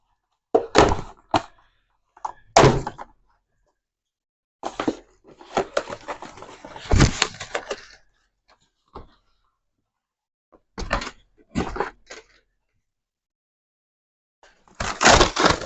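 Packaging of a beehive kit being opened and torn apart, loud close bursts of crinkling, ripping and cardboard handling in irregular clusters separated by short silent pauses.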